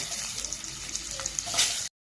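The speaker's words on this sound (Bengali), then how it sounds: "তেলের মধ্যে পেঁয়াজটা দেওয়া হচ্ছে" Onion sizzles in hot oil in a pan, a quiet, steady hiss with small pops and a brief louder burst near the end.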